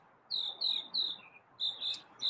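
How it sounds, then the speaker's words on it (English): Robins chirping in a backyard outside in the morning, several short bright calls in two bursts with brief pauses between, moderately close and clear over faint background hiss. "there's a lot of bird vocalization warfare going on right now."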